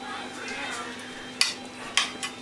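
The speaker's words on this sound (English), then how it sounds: "thank you for putting the spoon in the potatoes" A spoon clinks twice against a dish of cheesy potatoes, two crisp metallic taps over a quiet room hum, with a faint third touch afterward.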